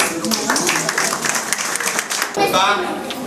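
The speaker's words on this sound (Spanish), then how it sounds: "recibamos con un muy fuerte aplauso a Juan" Audience applause welcoming a speaker at a project presentation, a continuous wash of clapping that swells again near the end, with voices over it.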